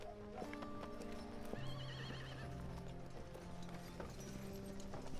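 Horses whinny and neigh nearby over steady clip-clop hooves, with a faint tonal background hum.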